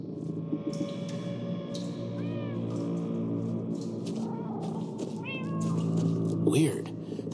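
Cats meowing in the Minecraft Story Mode video game, several short rising and falling calls heard over a steady droning game soundtrack with voices speaking at times.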